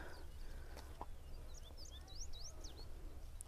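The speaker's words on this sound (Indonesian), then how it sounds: "Ada suara burung lagi loh, berkicau-kicau." Birds chirp faintly in the background of a blueberry farm, a few short high tweets scattered over a low steady outdoor hum.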